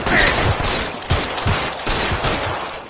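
Sustained gunfire in the detective video game L.A. Noire, a dense fusillade of rapid shots with sharp bursts near 1.1 and 1.5 seconds, loud throughout with no clear speech.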